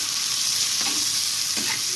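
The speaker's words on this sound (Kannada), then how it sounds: "ಚೆನ್ನಾಗೆ ತಿರುಗಿಸ್ಕೊಳ್ಳೋಣ." Mutton tossed with salt and turmeric sizzles loudly and steadily in a hot pan, with a couple of soft stirring scrapes beneath the constant hiss.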